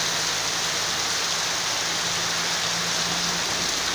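Heavy driving rain pours steadily in a wind-lashed downpour, a dense, even hiss that stays loud and unbroken throughout, with a faint low hum underneath and no voices.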